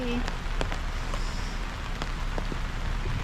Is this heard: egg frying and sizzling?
no